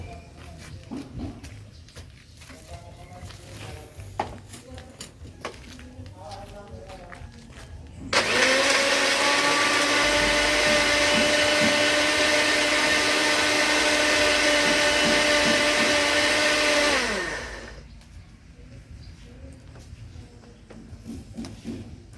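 Herbal fish medicine and water are ground in an electric blender, a loud whining roar with a steady pitched drone that runs about nine seconds, preceded and followed by quieter clattering handling sounds.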